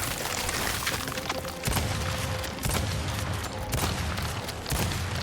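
Gunfire in the Gears of War 5 video game, loud and continuous throughout, with heavy booming impacts and bursts layered over a dense battle din.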